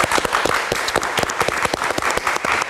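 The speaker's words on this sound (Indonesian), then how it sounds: "Kita berikan tepuk tangan." Studio audience at a live talk show giving steady, loud applause, dense clapping throughout with no speech over it.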